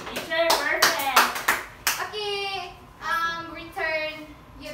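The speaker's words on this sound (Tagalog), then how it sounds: "bigyan ng 5 palakpak ang inyong mga sarili" Schoolchildren in a classroom clap in unison, a quick series of about five sharp claps, followed by children's voices speaking together.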